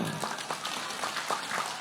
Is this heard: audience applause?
yes